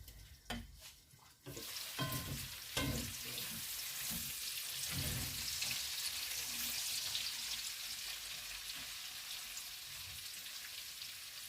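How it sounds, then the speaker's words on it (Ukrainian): Potatoes with their skins frying with lard and onion in a pan, a soft, steady crackling sizzle that follows a few utensil clicks and stirring knocks at the start, fairly quiet and without voices. "Так гарно рум'яниться із шкірочками картопля"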